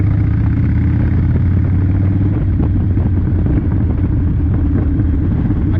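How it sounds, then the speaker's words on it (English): A tuned V-twin motorcycle engine running close and loud, with a continuous deep, lumpy rumble and a scattering of sharp pops and crackles throughout. "there was loads of pops on that one"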